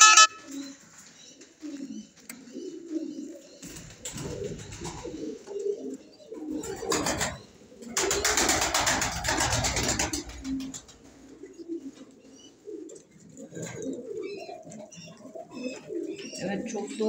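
Pigeons coo softly in a low, repeating rhythm through most of the stretch, with bursts of wind or handling noise in the middle and people talking nearby in a cold outdoor setting.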